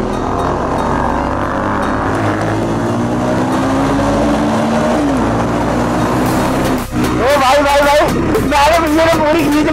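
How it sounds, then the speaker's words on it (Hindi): Motorcycle engine running steadily while riding, its drone rising and falling through the ride, with people talking over it throughout and a louder rev burst near the end. "बाइक की साउंड सुन रहे हो"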